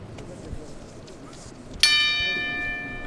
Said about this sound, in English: And the bell goes.